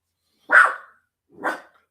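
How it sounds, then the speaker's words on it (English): A dog gives two separate barks about a second apart, fairly close and loud, with silence in between, set off by a tap at a door. "That's Alice barking because there was something tapped at the door"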